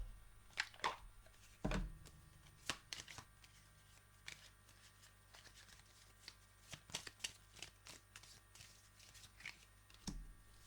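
A deck of oracle cards being shuffled by hand, with repeated soft riffling and flicking bursts in uneven rhythm, close and fairly quiet, with no talking.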